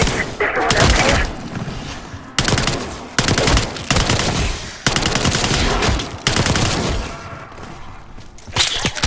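Gunfire in Call of Duty Black Ops 6: loud, close bursts of automatic weapon fire in repeated volleys, separated by short sharp pauses, with heavy booms layered in.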